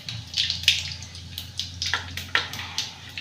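Mustard seeds and cumin sizzle in hot oil, with a soft hiss broken by several sharp crackling pops scattered irregularly, close and moderately loud.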